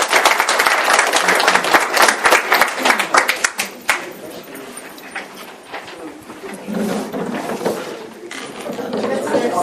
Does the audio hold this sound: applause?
yes